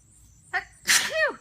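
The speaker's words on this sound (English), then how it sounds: "I think I might sneeze." A single close, sharp sneeze, preceded by a short breathy intake, then a brief fading tail.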